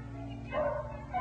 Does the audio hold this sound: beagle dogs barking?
yes